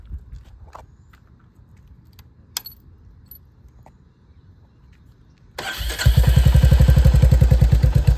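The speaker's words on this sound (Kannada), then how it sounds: "ಬನ್ನಿ ಎಕ್ಸಾಸ್ಟ್ ನೋಟ್ ಕೇಳೋದ" Motorcycle with an aftermarket exhaust and a replacement air filter sits silent with a few small clicks and jingles, then starts and settles into a loud, steady, rapidly pulsing idle close by.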